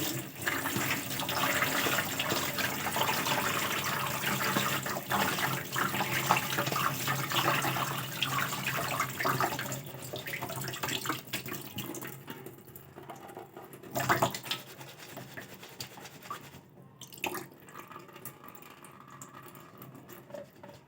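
Tap water runs while freshly chopped coriander is rinsed in a kitchen, a steady close splashing and gushing that thins out and stops about two-thirds through, followed by faint drips and handling sounds.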